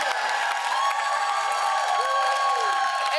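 Audience applause and cheering at a comedy talk show, a dense steady crowd sound with scattered whoops that holds at an even level throughout.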